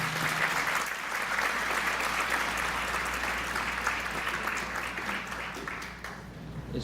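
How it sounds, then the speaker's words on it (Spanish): A university conference audience applauding to welcome a speaker, sustained hall-filling clapping that carries on evenly and then begins to thin toward the end. "Recibámoslo con un fuerte aplauso"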